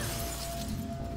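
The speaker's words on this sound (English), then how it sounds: "Does the shattering glass make it any better, V?" Glass shattering in the video game Mirror's Edge Catalyst, a bright hissing burst of breaking shards that trails off over about a second, heard alone without voices.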